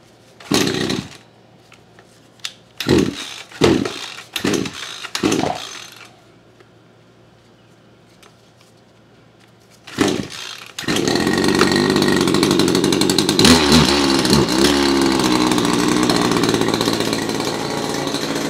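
A Kawasaki KGT27C string trimmer with a new trimmer head: several short, loud bursts of rope pulls and sputtering, a quiet pause, then the small two-stroke engine catches and runs continuously close by.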